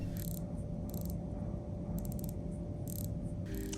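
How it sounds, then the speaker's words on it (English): The crown of an Omega Speedmaster First Omega in Space watch is wound, giving soft, fine ratcheting clicks in small repeated clusters, close and delicate over a steady low background hum. "we wind the crown in a clockwise rotation. The winding feels smooth with a good resistance and nice sound of the movement"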